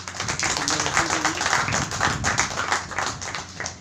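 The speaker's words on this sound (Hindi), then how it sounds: "एक बार सभी ताली बजा दीजिए।" A crowd claps steadily for several seconds at a church youth meeting, a dense patter of many hands at moderate volume.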